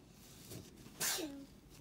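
One small, quick sneeze from a baby, close and clear against a quiet room, preceded by a faint breathy sound.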